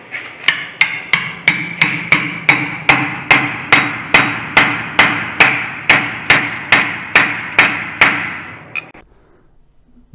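A blacksmith hammers a hot iron bar to upset it inside a hole, about twenty sharp, ringing metallic blows landing in a steady, even rhythm, loud and close, before the strikes stop.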